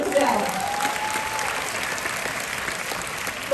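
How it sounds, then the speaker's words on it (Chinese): Audience applause at a motivational talk, a steady wash of clapping from a crowd that stays even and moderately loud throughout, with a brief voice near the start. "来，我们给他一个掌声"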